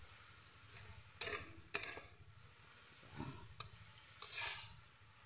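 Herbs in cooking oil sizzle in a pan while being stirred for a homemade seven-herb remedy, a soft continuous hiss broken by scraping utensil strokes and occasional sharp taps against the pan.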